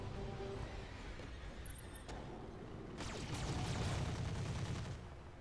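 Mech gunfire in the video game Roguetech, a rapid burst of shots and impacts over a steady mechanical hum, fairly loud and with no talk.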